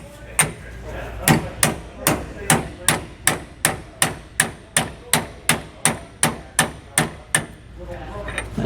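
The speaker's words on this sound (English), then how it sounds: "That way while I'm hammering this in" Steady, evenly spaced hammer blows, about two per second, drive a bushing into a trailer suspension hanger, ringing out sharp and metallic for several seconds before stopping, with no talking.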